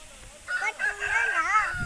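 A rooster crows once in a clear, near cock-a-doodle-doo lasting over a second, the call rising and wavering, with faint background noise before it.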